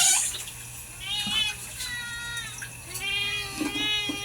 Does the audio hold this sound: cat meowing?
yes